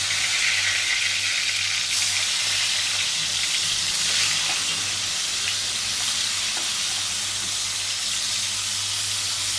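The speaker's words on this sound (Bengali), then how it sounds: "এখন মাছগুলো সুন্দর করে ভেজে নেব" Fish, rui or katla, frying in a pan with a steady, even sizzle that stays constant throughout with no talking.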